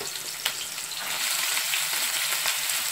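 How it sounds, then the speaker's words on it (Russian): Onions sizzle and crackle in a hot pan, a steady hissing fry with occasional pops and a brief stir, close up. "Жарим до прозрачности и немножко до такого розового цвета лука"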